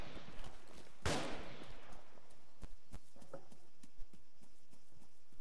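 Gunfire in an Arma 3 military co-op game: one sharp, loud shot followed by scattered fainter, distant pops and cracks over a faint background hiss.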